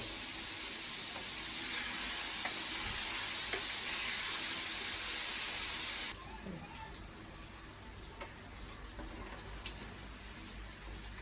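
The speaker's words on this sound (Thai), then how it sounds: "ทอดเขาไป จนสุกเหลืองกรอบนะครับ แล้วก็เอาขึ้นได้เลย" Sea bass deep-frying in hot oil for a Thai fried fish with chili sauce, a steady loud hiss and sizzle through the first six seconds that then drops to a quieter bubbling.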